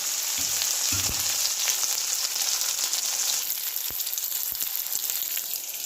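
Fish masala for katla macher jhol sautés in a pan with a steady, close hiss of frying oil, sprinkled with small pops and a few soft stirring knocks, and no voices.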